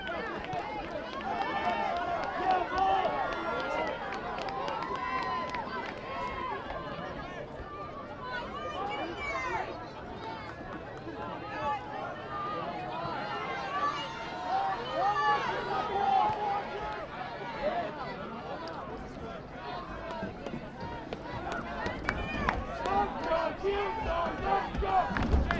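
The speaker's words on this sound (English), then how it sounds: "You can hear the chant from the Kearsarge crowd here tonight" A crowd at a high school boys soccer game between St. Thomas and Kearsarge chants and roars in a steady swelling din, heard from a distance with layered voices throughout.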